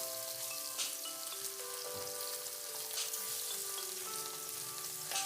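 Four pieces of salted, turmeric-coated fish fry together in hot oil in a wok, giving a dense continuous sizzle with scattered spitting pops and occasional utensil knocks, heard close up without speech.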